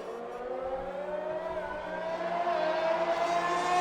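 A race car in a video game race at Silverstone holds a high, rising engine whine as it accelerates down the straight, steady and close, with no voices.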